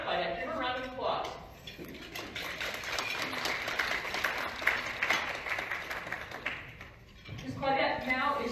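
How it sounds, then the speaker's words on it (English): An audience at a women's opportunities event in Indiana applauds, a dense burst of clapping lasting several seconds between stretches of talk at the start and end. "Give her a round of applause."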